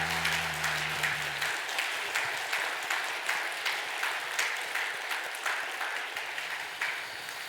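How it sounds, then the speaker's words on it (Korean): Church congregation at a New Year thanksgiving Sunday service claps vigorously in a sustained round, with a low tone fading out in the first moments before the clapping carries on alone. "힘차게 박수 한번 하겠습니다"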